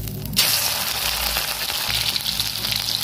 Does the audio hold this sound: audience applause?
no